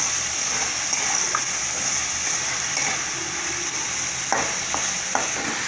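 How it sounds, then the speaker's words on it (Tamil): Dal frying in oil in a pan for Tamil kulambu with mochai kottai, stirred steadily: a continuous close sizzle with occasional scraping clinks of the spoon, and no talking. "எண்ணெயில் இந்த பருப்பு நல்லா வணங்கணும்"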